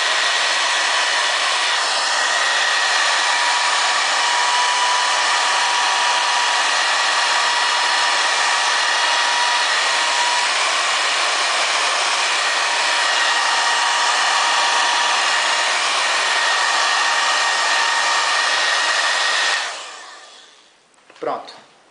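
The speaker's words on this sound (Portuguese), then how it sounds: "Pode acelerar com o secador." A hair dryer blows steadily and loudly to speed up drying wet paint on a brushed marquetry-style woodwork piece, holding a constant broadband roar for about twenty seconds before switching off, followed by a brief handling knock.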